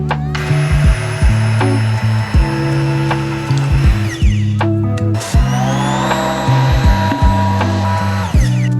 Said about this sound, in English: I still get nervous every time I go to blend it